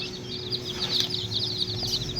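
Chickens at a village home cluck and chirp steadily throughout, close by, with soft background noise and no talking.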